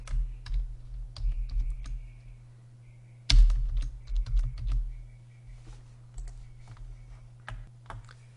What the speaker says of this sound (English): Copy this down and type in our new label.